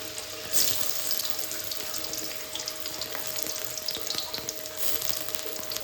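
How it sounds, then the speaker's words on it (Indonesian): Bakso meatballs fry in hot oil with a steady, dense crackling sizzle that swells briefly now and then, close and continuous with no talking. "Ini minyaknya sudah panas, waktunya kita goreng baksonya."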